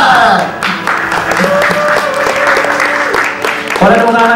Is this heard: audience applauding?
yes